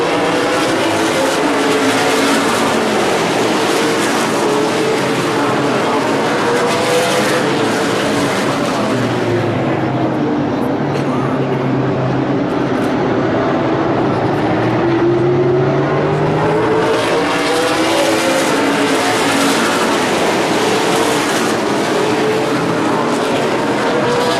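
Super late model race cars roaring around Evergreen Speedway during a 50-lap main event, a dense continuous engine drone that swells and dips as cars pass, loud and steady throughout with no talk.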